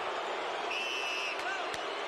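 Arena crowd at a heavyweight boxing event booing Lennox Lewis as he appears on the Jumbotron, a continuous distant roar of massed voices with a few sharp thuds and whistles over it.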